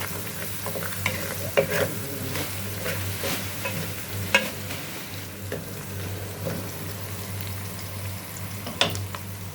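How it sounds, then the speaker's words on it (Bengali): Onions fry in a pan with salt added, a steady close sizzle broken by repeated scraping and clinking as a utensil stirs them, with no voices. "তাহলে তাড়াতাড়ি পেঁয়াজটা ভাজা হয়"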